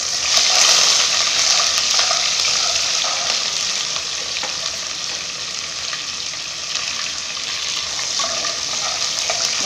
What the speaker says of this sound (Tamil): வெங்காயம் கருவேப்பிலை போட்டு ஆட் பண்ணிக்கோங்க